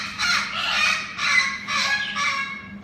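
Several birds call loudly in a string of harsh, honking squawks, close by in an enclosed space, with a steady low hum underneath.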